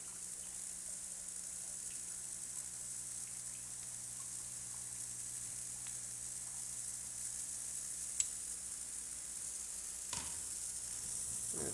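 An ultrasonic blind cleaning tank runs with vinyl vertical blinds inside, giving a steady fizzing, sizzling hiss with a low constant hum beneath, fairly quiet and continuous, broken by a brief splashy clatter near the end.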